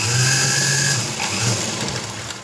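A sewing machine runs steadily while stitching lace onto a blouse, a continuous close mechanical whir and hum lasting the full stretch with a slight change in pitch midway.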